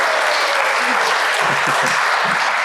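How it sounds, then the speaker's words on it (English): A wedding reception crowd gives sustained, dense applause, a loud continuous wash of clapping with a few faint voices underneath. "Everybody, give her a round of applause."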